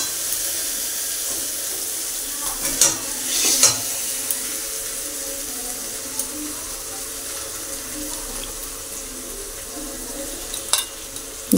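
Loté fish fry in a wet spice paste, giving a constant soft hiss and sizzle with watery bubbling, broken by a few clinks and scraping stirs.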